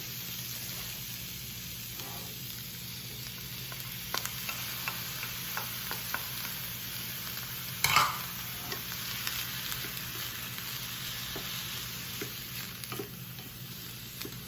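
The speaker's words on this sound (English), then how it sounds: "put my onions and peppers in this skillet. Get those to sauteing" Onions and peppers sizzle steadily in a skillet with light spatula scrapes and stirring clicks, a constant close frying hiss with one louder clatter midway.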